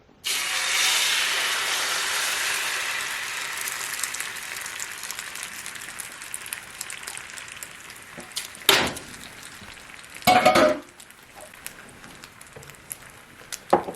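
Two-year-old preserved eggs hit melted butter in a pan with a loud hissing sizzle that slowly settles into a softer, steady crackle, broken by two brief sharp bursts of spattering.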